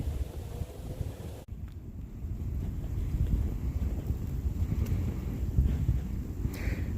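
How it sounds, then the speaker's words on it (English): Steady wind blows across the microphone outdoors, a continuous low rumbling buffet with a brief dip early on, no voices. "It's a little windy today, so it's a little tricky."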